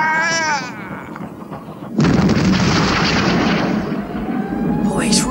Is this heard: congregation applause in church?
no